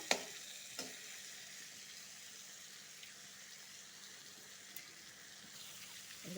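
Potol, pointed gourd, frying in oil in a pan, a faint even sizzle holding steady with a couple of light clicks of stirring near the start, quiet and unaccompanied by speech.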